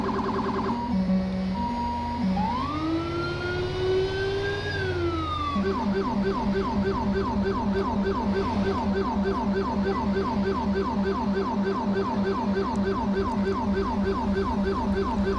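Video game ambulance and police sirens from a Los Santos emergency simulation, a long rising and falling wail that switches to a rapid yelp, loud and continuous.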